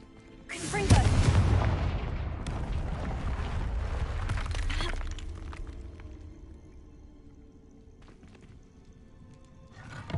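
A Confringo blasting spell in a Harry Potter game bursts into a loud, booming explosion that rumbles on for several seconds before fading into a quieter lingering roar.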